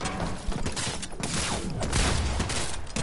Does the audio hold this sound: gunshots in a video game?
yes